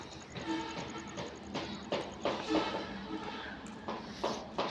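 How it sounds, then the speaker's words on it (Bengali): A train rumbles into Mirzapur railway station in Tangail, a steady broad roar with irregular clanks and knocks from the wagons, while voices murmur faintly across the large platform. "একটা ট্রেন চলে আসছে"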